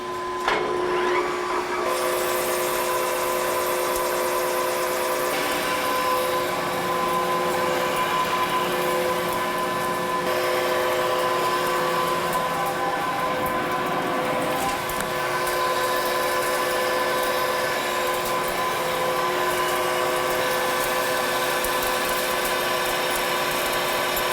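Metal stock being turned down on its outer diameter on a lathe, a steady machine whine with sustained tonal hum and gritty cutting noise running throughout, fairly loud and without talk.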